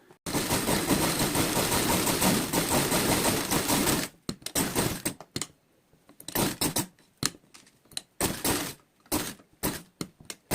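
An electric sewing machine stitches a pink feather design, running in a steady rapid whir for about four seconds, then continuing in short stop-and-start bursts.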